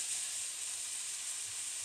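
Chicken for linguine fries in hot olive oil with a continuous, even, bright sizzle and hiss, steady and fairly soft throughout without talk.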